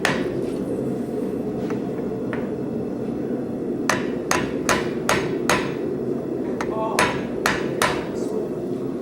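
Hammer blows on hot metal at a blacksmith forge during a smiths' conference demonstration, a series of sharp ringing strikes, a few spaced apart, then a rapid cluster, over a steady roar of the forge.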